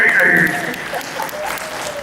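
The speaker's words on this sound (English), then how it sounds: "A round of applause, everybody." Brief audience applause at a voice-acting event, a short burst of clapping following a raised voice, fading under continuing crowd sound.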